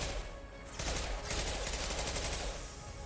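Rapid automatic gunfire with heavy recoil in a first-person shooter video game, a dense continuous burst of shots running through the whole stretch at steady loudness.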